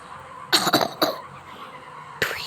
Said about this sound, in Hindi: मुझे खांसी हो रही